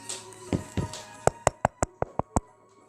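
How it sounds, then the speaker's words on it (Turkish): A doorbell rings at a house door as a rapid run of about seven short, clear electronic tones in an even rhythm, heard alone and close. "Kapı çalıyor."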